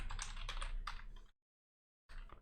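Quick, close keyboard typing as an email is composed, a dense run of clicks that stops abruptly into silence before a short burst of keystrokes resumes.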